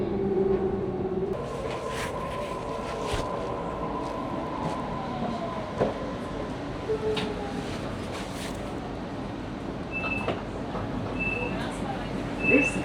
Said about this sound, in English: This train will stop at Chatswood.